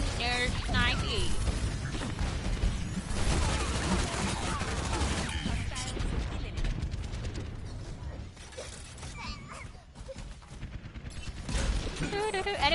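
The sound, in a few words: sniper gunfire in the video game Overwatch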